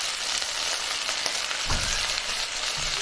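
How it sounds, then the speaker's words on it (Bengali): Potatoes and okra fry in a pan with a steady, dense sizzle that holds at an even level throughout, with no talking. "এই যে দেখতে পাচ্ছ গাইস, কিছুক্ষণ ফ্রাই হয়ে গিয়েছে"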